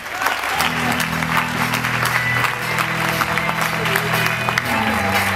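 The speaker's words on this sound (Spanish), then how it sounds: "les pido un fuerte aplauso para ella" A studio audience gives sustained applause for a female guest, a thick, even wash of clapping from many people with a faint tone held underneath throughout.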